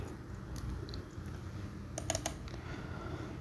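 A computer keyboard tapped while a SUBTOTAL formula is entered in Excel: quiet, quick keystrokes in irregular bursts, with a small cluster of sharper clicks near the end, over faint room hum.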